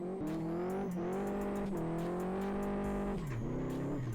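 A BMW F30's engine in the racing game Live for Speed revs hard and holds high, steady whining tones, dips briefly as gears shift, then climbs again, loud and alone with no talk.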